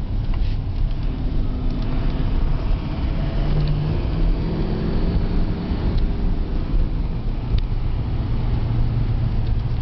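A 2008 LMM Duramax diesel pickup, a light regular cab, accelerates in third after a downshift, a deep continuous engine drone with rising tones heard from inside the cab over road and wind noise.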